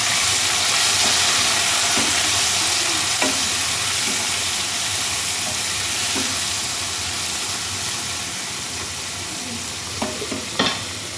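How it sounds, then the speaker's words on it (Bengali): Paneer frying in a pan for chilli paneer, stirred continuously, giving a steady loud sizzle and hiss with occasional scrapes and clinks of the spatula against the pan, no voices. "এবার এটাকে নাড়তে থাকবো"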